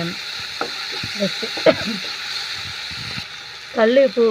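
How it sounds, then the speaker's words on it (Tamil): Tomatoes sauté in a pan for a Tamil-style chicken curry, a steady close sizzle with occasional stirring scrapes, while a voice talks over it near the start and again at the end. "தக்காளி போடுறேன். தக்காளி நல்லா வதங்கணும். வதங்க வரைக்கும் வதக்குங்க."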